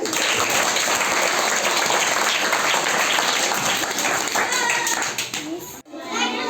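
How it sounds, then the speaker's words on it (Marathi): A crowd at a village polling station claps steadily and loudly for an elderly grandmother who has just voted, with voices mixed in, before the applause breaks off near the end. "सगळेजण जरा टाळ्या वाजवा रे"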